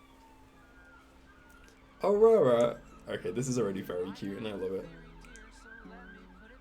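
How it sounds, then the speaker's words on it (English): Emergency vehicle sirens wail faintly in the background, a thin rising and falling tone running beneath a person speaking close by. "Excuse the sirens in the background."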